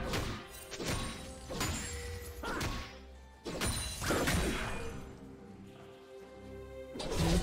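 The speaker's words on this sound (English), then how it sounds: "Blue team's turret has been destroyed." Heavy crashing impacts and thuds of a turret being destroyed in League of Legends, several loud hits spaced a second or so apart, with whooshing effects in between.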